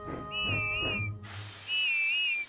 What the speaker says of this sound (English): Then at last she heard Whiff's funny whistle.